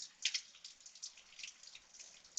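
Rain dripping in a quiet spot, faint scattered drops ticking irregularly with soft splashes and no voices.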